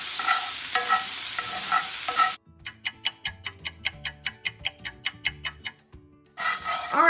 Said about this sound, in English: Give that a quick stir. And we're going to let it cook until the vegetables are soft and tender.